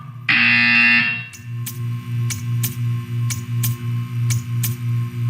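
A loud harsh buzzer from Portal 2 blares for about a second, followed by a steady rhythmic pulsing hum with sharp periodic clicks.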